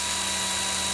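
An electric drill spins a furled fishing leader, making a continuous high whirring motor drone with a steady pitch, close and unbroken throughout.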